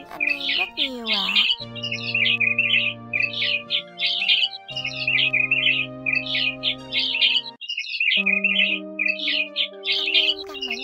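A white-headed migratory starling repeats bright, chattering chirps and whistled phrases in regular bursts, carried over steady sustained tones that run underneath throughout.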